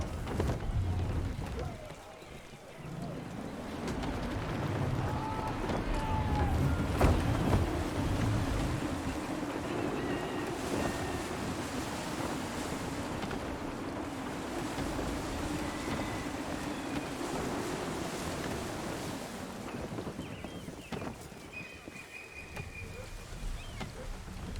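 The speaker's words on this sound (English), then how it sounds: "Wind looks to be shifting. Stay alert, Connor. Gusty winds can be difficult to manage." Gusty wind and rolling waves at sea aboard a sailing ship in Assassin's Creed III, a continuous rushing, surging roar with swells of wind, under intermittent spoken dialogue.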